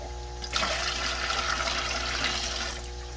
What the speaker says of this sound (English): So I'm putting water in my bucket.